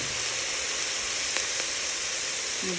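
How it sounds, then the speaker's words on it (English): Steady, dense sizzling of chili ingredients frying in a hot pan, close up, with a couple of faint clinks of a utensil. "So it is going to sizzle a lot more."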